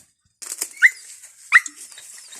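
A hunting dog out after rats along a canal gives two sharp, close barks about a second apart, with soft whimpering noises between them and quiet surroundings.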